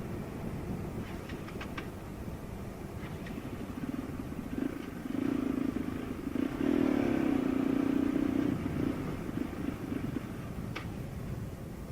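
A Bajaj Pulsar RS200 BS6 motorcycle running low on fuel, its engine giving a steady, muffled drone heard while riding, swelling louder midway with a wavering tone, amid wind and road noise.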